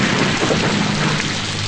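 Steady heavy downpour in a film scene, a dense loud hiss of rain with a low rumble underneath and no voices.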